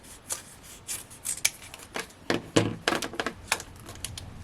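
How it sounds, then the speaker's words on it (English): Scissors snip through a strip of 1mm foam pads at a craft table, giving a run of short, crisp cuts and rustles in an uneven rhythm, fairly close and moderately quiet, with no talking. "So I'm just going to cut, I need another strip"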